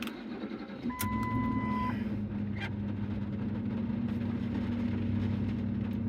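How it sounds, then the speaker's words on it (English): A car engine cranks and catches after a short electronic chime, then settles into a steady, even idle that continues to the end, close and without talk. "Okay, so I'm gonna go ahead and start the motor."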